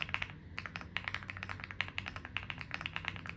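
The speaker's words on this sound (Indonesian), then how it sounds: "Keyboard ini menurut gue lebih ke arah yang gak terlalu berisik" Keystrokes on an IPI Rain65 full-aluminium Hall effect keyboard with rapid trigger, a quiet, fairly muted stream of quick clicks and taps in uneven bursts, close and soft.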